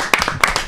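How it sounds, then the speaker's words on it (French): An audience claps at a late-night live French broadcast, a short burst of sharp, close hand claps landing in an uneven rhythm at moderate loudness. "Qu'on va applaudir d'ailleurs."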